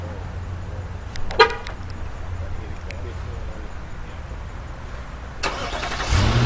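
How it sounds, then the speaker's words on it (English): A 2017 Nissan Armada's engine starts by remote start, a low idle with a few short horn toots and a brief cranking rise near the end, under a voice. "You do also get remote start on the SL and the Platinum."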